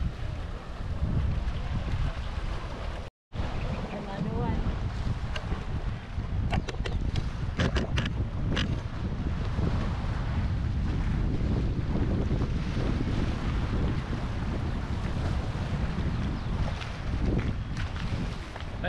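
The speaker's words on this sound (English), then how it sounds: "So this boat here will transfer" Passenger transfer boat heading out to Manukan Island on open sea, a constant rumble of engine and rushing water with heavy wind buffeting the microphone, close and loud throughout.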